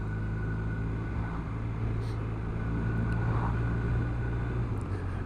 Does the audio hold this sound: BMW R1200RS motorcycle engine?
yes